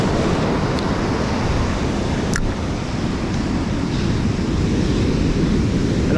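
Rough, high-energy ocean surf on the California coast during a king tide, a steady loud roar of breaking waves with wind buffeting the microphone throughout and no voices.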